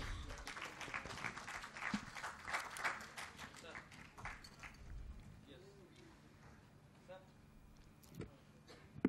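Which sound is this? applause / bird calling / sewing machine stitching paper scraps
applause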